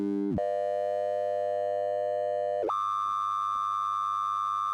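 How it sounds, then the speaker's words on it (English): A ring-modulated synth tone with sidebands, sustained and chord-like with many steady partials; the pitch drops briefly near the start, then jumps higher partway through, continuing alone at moderate loudness. "it's a constant tone that kind of sounds like a chord"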